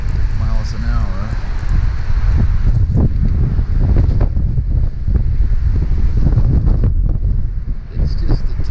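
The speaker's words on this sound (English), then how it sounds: "we're not going to be out on the road until all this wind stops" Strong blizzard wind in Colorado buffets the microphone with continuous loud gusting roar; a voice speaks briefly under it.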